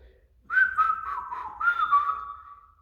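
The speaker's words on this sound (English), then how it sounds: "The most common whistle in the world, the pursed lip whistle," A pursed-lip whistle plays a wavering melody of several connected notes, close and clear, alone in a quiet room for about two seconds.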